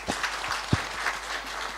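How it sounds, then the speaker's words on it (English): Audience applause at a workplace wellness policy launch, steady broadband clapping throughout with a few louder individual claps standing out. "Please clap hands for him"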